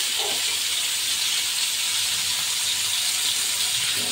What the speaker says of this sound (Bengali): এই যে ফ্রাই প্যানে মাছ ভাজা আরম্ভ করে দিয়েছে।